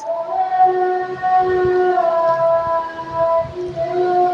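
A muezzin's amplified call to prayer from a nearby mosque, a sustained melodic voice with rich harmonics rising and falling steadily, loud and close with no other talk.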